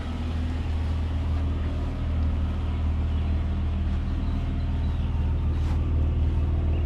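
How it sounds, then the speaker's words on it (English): A Dodge Ram 1500 with a 6-cylinder engine idles in a steady, smooth low rumble, fairly quiet and even throughout with no revving. "Nice and quiet for a 6-cylinder."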